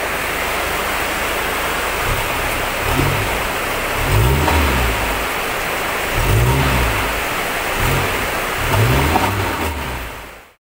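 A car engine runs steadily up close after its starter has been fixed, with a continuous broadband hum that swells into several short, rhythmic revs and then cuts off abruptly.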